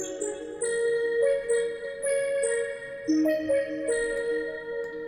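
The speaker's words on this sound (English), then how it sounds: "So the low guitar and the electric piano sound like this together." Low guitar and electric piano play a bedroom-pop melody together, mellow sustained notes changing in a relaxed stepwise rhythm, clean and unaccompanied by voices.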